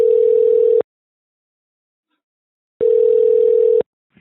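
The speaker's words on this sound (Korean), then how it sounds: "아쿠시네트 코리아 본사에 전화를 해봤습니다" A telephone ringback tone heard while calling Acushnet Korea, two loud steady one-second tones separated by a two-second silence.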